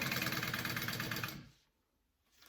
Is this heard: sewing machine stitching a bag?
yes